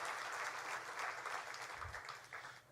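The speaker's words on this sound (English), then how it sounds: "How about another round of applause for Greg Hayes" An audience at the Carrier plant in Indiana applauds Greg Hayes, chairman and CEO of United Technologies, a faint, distant wash of clapping that fades slightly toward the end.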